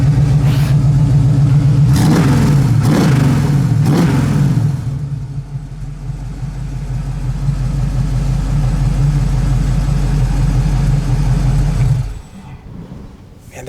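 The engine of a 1965 Ford Mustang Fastback revs loudly in several sharp throttle blips, then settles into a steady, rumbling idle before cutting off near the end.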